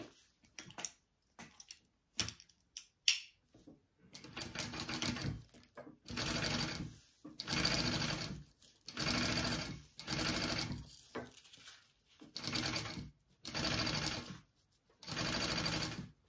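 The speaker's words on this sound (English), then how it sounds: "I will sew this at my full seam allowance." A sewing machine stitches the lining piece of a tote bag at full seam allowance. Several short bursts of stitching give way to a series of steady runs of even mechanical whirring, each separated by brief pauses, close and clear with no talk.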